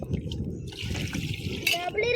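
Water is poured onto rice for washing, giving a brief trickling, splashing rush under ongoing conversation.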